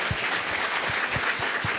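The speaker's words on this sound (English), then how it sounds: "let's clap for you guys real quick." Audience applause at a biodesign summit panel, a dense wash of clapping from a crowd, steady and loud across the short stretch with a few heavier thumps underneath.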